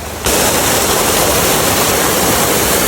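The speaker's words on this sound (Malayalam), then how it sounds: "ഞങ്ങളെല്ലാവരും ഓരോ വെള്ളം ഒഴുകുന്നതിൻ്റെ ആ സൗണ്ട് അടുത്ത് കേൾക്കാൻ പറ്റുന്ന ഓരോ ഏരിയയിലിരുന്ന്" Water pours steadily at McLaren Falls waterfall, a dense, loud rushing roar that swells in after a brief quieter moment and then holds constant and close, with no voices.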